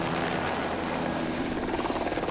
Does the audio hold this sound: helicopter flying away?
yes